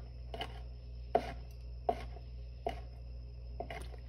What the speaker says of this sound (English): let's cut some olives.